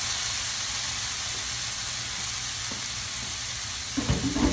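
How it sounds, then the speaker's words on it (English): Creamy fried corn is stirred in a hot dish, a steady hissing sizzle with soft low scraping that grows into a few louder clunks near the end, with no voices. "So I'm putting all of this in, and I'm just going to stir it around."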